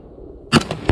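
A rifle shot sets off a Tannerite target, a sudden sharp blast after a moment of quiet, followed by a couple of quick echoing cracks outdoors.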